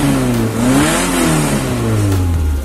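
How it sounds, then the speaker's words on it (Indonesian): Suzuki Carry 1.0 engine revved through its exhaust, a loud close rising and falling growl with throttle blips, heard alone with no talking. "Tadi sekilas ya untuk kita gas-gas seperti itu suaranya"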